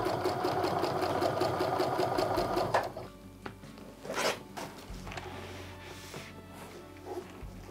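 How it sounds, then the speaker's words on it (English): A sewing machine stitches quilt pieces in a fast, steady whir for about three seconds, then stops, followed by quieter clicks and fabric handling. "So I set my sewing machine back to a regular quarter inch stitch from here on out."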